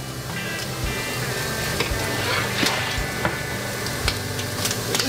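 Bacon frying in a pan, a dense, steady crackling sizzle with scattered pops, close and continuous with no talking.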